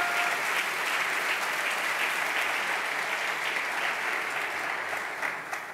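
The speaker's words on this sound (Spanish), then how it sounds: "Denle un aplauso de gratitud al Señor por eso" A congregation at an evening church service applauds in gratitude, a dense, steady wash of clapping from many hands that holds evenly for several seconds before tapering slightly at the end.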